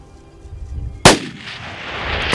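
A single sharp rifle shot cracks out during a big-game hunt on safari, loud and close, followed by a lingering rumble and echo, with a fainter second report near the end.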